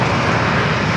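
An Airbus A321neo airliner at San Diego airport roars with a steady, broad jet engine wash, loud and close, with no voices.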